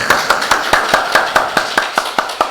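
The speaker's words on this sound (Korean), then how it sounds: "자, 우리 하나님께 영광의 박수" Church congregation applauding during a Sunday worship service, a steady rhythmic clap in unison at about two beats per second, close and fairly loud, with no talking over it.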